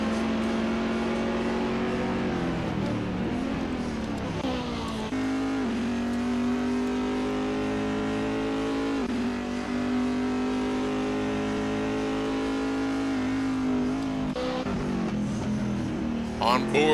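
Race cars, including a BMW GT2, circle Imola in a racing video game, their engines droning and revving in layered, shifting tones as they pass and change gears, with a commentator talking over them.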